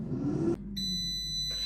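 A countertop air fryer cooking spaghetti squash seeds at 180 Celsius gives a clear, steady electronic beep, close and prominent over a low background hum after a brief rumble.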